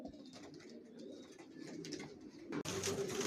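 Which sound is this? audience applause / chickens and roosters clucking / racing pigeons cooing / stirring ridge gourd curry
racing pigeons cooing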